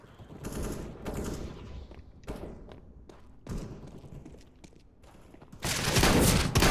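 Shotgun blasts ring out in Counter-Strike: Global Offensive, several heavy shots with thuds between them, ending in a louder, sustained burst of fire. No one speaks.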